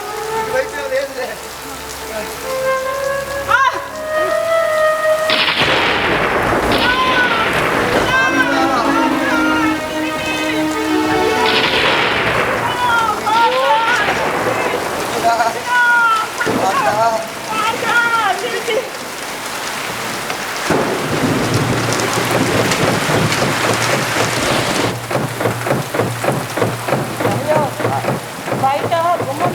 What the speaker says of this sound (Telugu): జల్లంతా లోపల వచ్చేస్తుందయ్యా